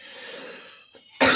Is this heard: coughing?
yes